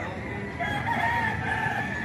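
A Melsim gamefowl rooster crows once, close and clear, its rising call lasting over a second against a low background hum.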